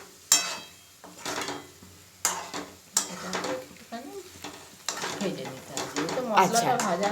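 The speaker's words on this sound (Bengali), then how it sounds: "এবার এটাকে একটুখানি ভেজে নিয়ে একটু কিছুক্ষণ ভাজতে হবে" Spicy chicken masala fries and sizzles in a pan while a utensil scrapes and stirs it in repeated strokes; voices talk intermittently over the cooking.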